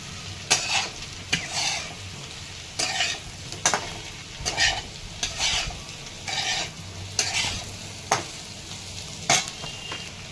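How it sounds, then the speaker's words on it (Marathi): Potato cubes for jeera aloo, coated with garam masala and cumin, are stirred in a hot pan, giving repeated sharp scraping strokes over a steady sizzle, close and fairly loud, with no talking. "गरम मसाला टाकून घेत आहे मिक्स करून घ्यायचं"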